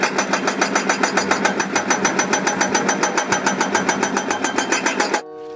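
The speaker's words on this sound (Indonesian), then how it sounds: "Ekskavator pemecah batu teman-teman." A small toy rock-breaker excavator engine chugs in a fast, steady pulsing rhythm, buzzy and loud, before cutting off abruptly near the end.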